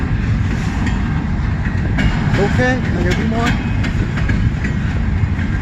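A CN double-stack westbound freight train rolls by at a meet in Emmett, Michigan, giving a loud, steady rumble with wheel clatter and a brief squeal, while a person talks over it close to the microphone.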